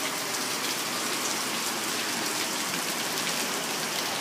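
Heavy downpour during a hurricane pours down as a dense, continuous hiss of rain pounding nearby surfaces, steady and loud throughout, with no voices.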